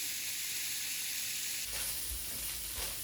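Meat sears in a pot for kick-off beans, giving a continuous loud sizzle that shifts partway through as it is stirred, with dull knocks against the pot and no talking.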